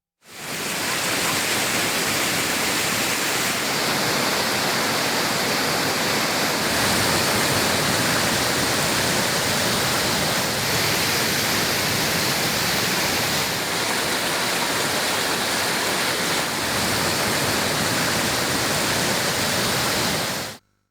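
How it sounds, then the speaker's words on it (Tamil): The flooding Panchalinga waterfall on the Thirumoorthy hills roars in a dense, unbroken rush of white noise, loud and steady throughout with no voices. "அருவியில் தண்ணீர் ஆர்ப்பரித்து கொட்டும் நிலையில்"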